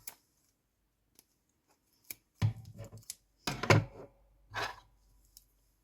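Scissors snip through material while making a braided princess hair clip, a few sharp separate cuts in short bursts with quiet gaps between, close and clear.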